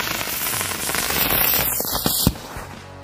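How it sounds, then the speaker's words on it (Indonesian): A Batman firecracker set off at a New Year's Eve gathering gives a sustained hissing, crackling fizz that ends in a sharp pop, then quickly fades, close by with no talk. "selanjutnya ini kita coba mercon Batman"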